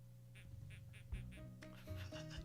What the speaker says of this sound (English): It's like a duck sound.